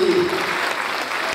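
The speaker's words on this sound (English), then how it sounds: "Can we give a round of applause for His Excellency" Audience applause for a state governor at an official check presentation ceremony, a dense steady clatter of hands filling the short moment, with a faint voice near the start.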